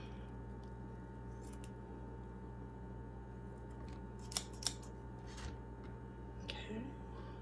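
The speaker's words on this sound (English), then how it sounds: "Let me go ahead and cut a little more off." Scissors snipping through a reishi mushroom, two quick soft clips close by and faint over a steady background hum, with a few more light rustles after.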